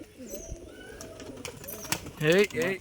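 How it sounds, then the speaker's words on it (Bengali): A male pigeon coos twice near the end, close and fairly loud, after quiet background noise and a few soft bird sounds. "এই একটা নর পায়রা"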